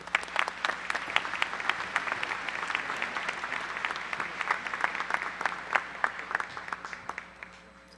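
Sustained applause from an audience at a university commencement ceremony, dense clapping filling the hall steadily for several seconds with little else heard.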